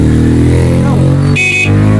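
A motorcycle passes behind a car on the road, a loud steady engine drone close by, with a short horn-like tone near the end.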